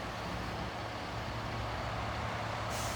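A dump truck reverses at a construction site, heard as a steady low engine rumble with broadband noise that holds evenly across a few seconds, fairly distant and without speech.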